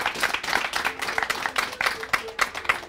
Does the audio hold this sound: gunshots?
no